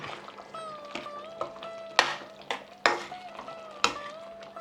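A spoon stirs garam masala through a simmering chicken tikka masala sauce, with soft sizzling underneath and a few sharp scrapes and knocks against the pan at roughly one-second intervals, close up, no voices.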